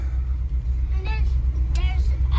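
A Dodge Prospector truck with a freshly installed engine being driven, a steady low rumbling engine drone from inside the cab while people talk over it.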